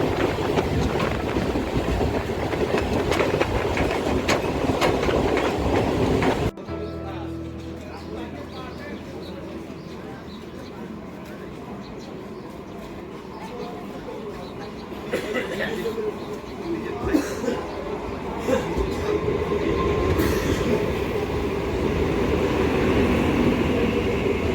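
A local train from Sealdah in West Bengal rolls along with a continuous rumble and rattle of carriages. The sound drops abruptly to a quieter, muffled interior tone before building again, with voices murmuring in the background.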